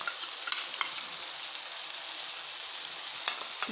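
Whole spices with bay leaf sizzle and fry in hot oil in a pan for chicken chole, a steady bright crackle with a few sharp pops and light stirring, close and continuous with no talk.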